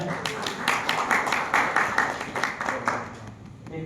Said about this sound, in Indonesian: Tepuk tangan dulu untuk Pak Wahya